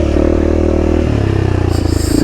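Honda CRF300L dual-sport motorcycle on off-road trails, its engine droning loud and close with rough, throbbing tone that shifts in pitch as the throttle changes, mixed with clatter from the bike over rough ground.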